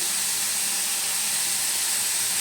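Mixed vegetables for restaurant-style fried rice fry on a low flame with an even, unbroken hiss at moderate loudness, with no voices.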